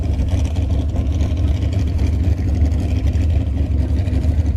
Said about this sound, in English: As we watch some 300-foot sand drag racing.